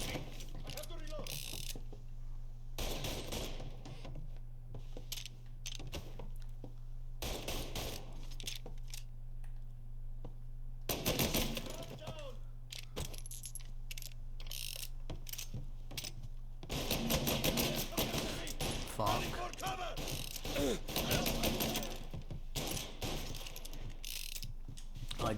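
Gunfire in Mafia Definitive Edition, sharp cracking shots scattered in bursts and volleys, some rapid clusters, over a low steady hum with occasional talk.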